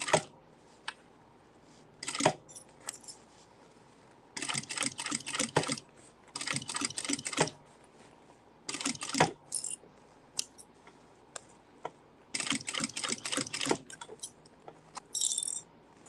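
A sewing machine stitches within a seam in irregular bursts: rapid mechanical runs of a second or two, separated by quiet pauses and small clicks, heard up close.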